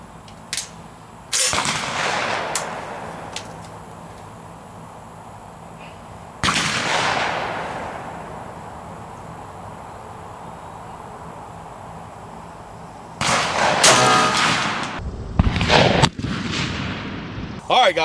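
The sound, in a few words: Browning Silver 28-inch barrel shotgun firing TSS number 7 shot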